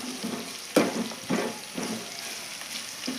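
Amaranth leaves fry in hot oil with a soft continuous sizzle, broken by a few stirring scrapes and clatters at irregular intervals, close but fairly quiet, no voices.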